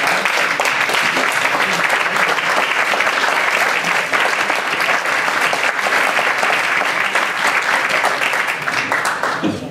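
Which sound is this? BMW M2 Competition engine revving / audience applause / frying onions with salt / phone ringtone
audience applause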